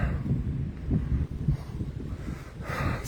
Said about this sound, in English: So if I can already feel the wind gusting right now